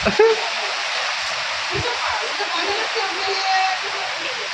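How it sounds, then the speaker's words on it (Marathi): Rushing rain floodwater pouring into a house and porch makes a constant loud hiss and roar, with faint voices talking underneath. "खूप जोरात पाणी येत आहे"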